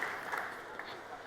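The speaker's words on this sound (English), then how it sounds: "Warm hand of applause for Authentic." An audience at a live tech conference stage gives a steady wash of applause that holds evenly throughout, loud and close.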